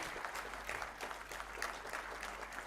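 An audience applauds at a memorial lecture in Jaipur, with steady dense clapping that holds at a fairly even level for the whole stretch, with no voices heard over it.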